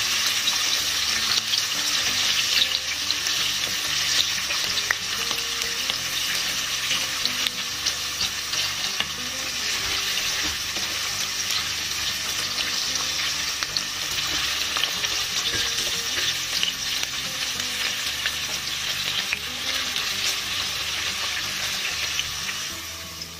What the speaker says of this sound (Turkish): Havuçlarımızı şöyle hafifçe bir kavuracağız.